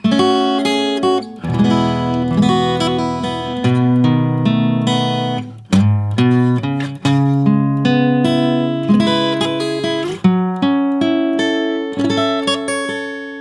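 A clean electric guitar plays a slow, melodic lick, single notes and small chord stabs ringing out one after another, with no voices.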